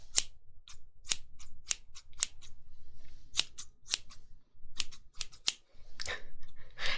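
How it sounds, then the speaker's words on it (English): Metal scissors snip close to the ear in sharp, crisp cuts, about a dozen irregular snips over faint soft rustling for hair-cutting ASMR. "It's me snipping off your hair, you know, preparing for the lobotomy."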